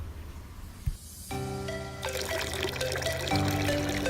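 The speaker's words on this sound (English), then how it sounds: "I replaced the water and added some prime" Water poured into an outdoor koi and minnow pond during winterizing, a steady continuous splashing pour that starts after a brief thump and grows fuller and louder toward the end.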